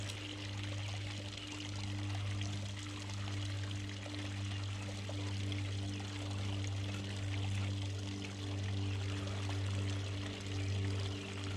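A steady rush of water pouring and trickling out of a field drainage tile pipe just cleared of debris, continuous and fairly close, with a low hum beneath it.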